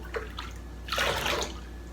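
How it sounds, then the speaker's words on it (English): Running water rinses dye out of a container, producing a short splashing gush that swells midway and then settles, close and moderately loud with no talk. "I'm gonna rinse it out a little bit, get all that dye in there if I can."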